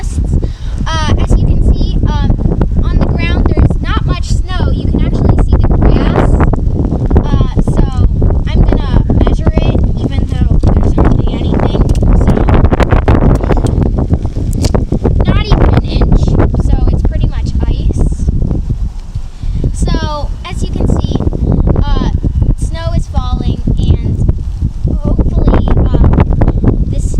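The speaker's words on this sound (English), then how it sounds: "It's also quite windy right now, probably 20 mile per hour wind gusts." Strong gusty wind buffets the microphone outdoors during a winter storm with lake effect snow, a loud continuous roar under someone talking throughout.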